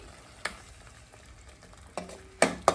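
An Afghani egg curry mixed with curd is stirred in a pan over a low, quiet simmer, with a few spoon knocks and a cluster of louder scraping clatters toward the end.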